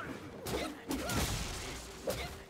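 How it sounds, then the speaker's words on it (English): Explosions in the video game Black Myth: Wukong: three sharp blasts at a moderate distance, each trailing off into rumbling noise. "Explosions!"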